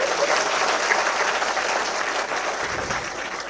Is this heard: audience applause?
yes